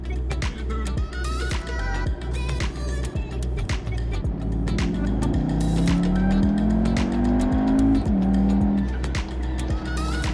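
A VW Tiguan R crossover drives with loud, steady engine and exhaust noise, a droning tone rising in pitch as it accelerates, with a brief tire-squeal-like edge near the end.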